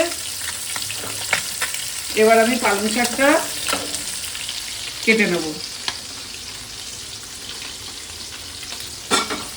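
Small puti fish fry in oil in a home kitchen, giving a steady close sizzle with occasional stirring clicks, while a voice speaks in two short stretches over it.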